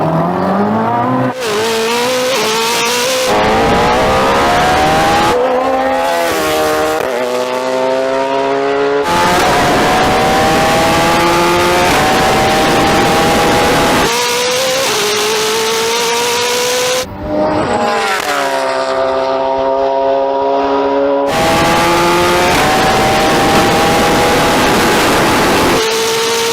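A Koenigsegg Jesko drag races a tuned Hayabusa motorcycle, with loud engines revving hard through repeated rising gear pulls and abrupt shifts. The roar is close and continuous, with squealing tyres and no talk.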